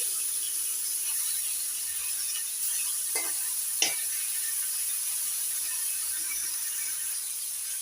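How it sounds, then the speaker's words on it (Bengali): Pomfret fish fry in hot oil, giving a continuous close hiss of sizzling with a couple of sharp utensil clicks partway through and no talking. "এবার পমপ্লেট মাছগুলো ভেজে নিচ্ছি দিয়ে দিচ্ছি তেলের দিচ্ছি"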